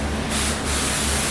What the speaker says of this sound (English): You're gonna spray one wet one on top.